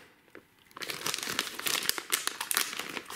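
A bag of chicken-flavoured potato chips crinkles loudly and steadily as it is pulled open, with sharp, continuous crackling after a brief quiet start and no talking.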